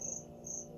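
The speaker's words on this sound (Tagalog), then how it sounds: "nakikinig po kami, guys, sa busis ng kuliglig" A cricket hidden inside a store chirps in two short, high, steady trills, close and fairly faint over a low background hum.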